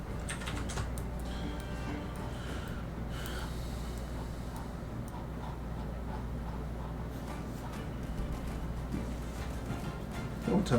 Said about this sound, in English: I typed in 43.